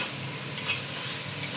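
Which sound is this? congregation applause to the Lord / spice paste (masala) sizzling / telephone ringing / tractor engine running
spice paste (masala) sizzling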